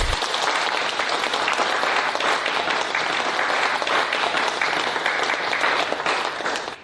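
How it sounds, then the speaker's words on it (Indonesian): Audience at an award ceremony applauds the recipient, a loud, dense, continuous wash of clapping that holds evenly throughout and fades slightly at the very end. "Mari kita beri tepuk tangan."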